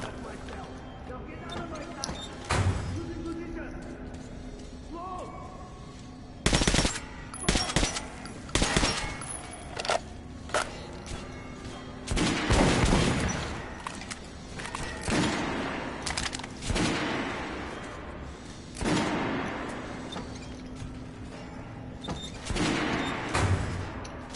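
Kalash assault rifle gunfire in the game Metro Last Light comes as several sharp bursts and single shots at irregular intervals, loud and close, with someone talking between them.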